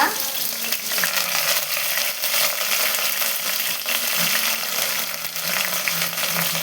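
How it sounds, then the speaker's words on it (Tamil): Sliced onion and a sprig of curry leaves frying with mustard seeds in a pan of oil for Kerala-style kadala curry, giving a steady, close, continuous sizzle with faint stirring throughout and no talking. "நான் ஒரு பெரிய சைஸ் ஆனியன் கட் பண்ணி எடுத்திருக்கேன், அதை சேர்த்துக்கலாம். ஒரு கொத்து கருவேப்பிலை சேர்த்துக்கிறேங்க."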